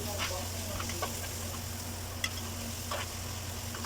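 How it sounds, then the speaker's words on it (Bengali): Tomatoes stirred into browned onions in a pan for a hilsa fish bhuna, a low steady sizzle with occasional soft scrapes and one small clink, faint and close, no speech. "টমেটো ছেড়ে দিয়ে এখন নাড়াচাড়া করলাম"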